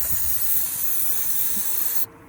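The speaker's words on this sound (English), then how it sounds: "This is starting fluid." Starting fluid sprays from an aerosol can in a steady, loud hiss for about two seconds, then cuts off abruptly and leaves a quiet background.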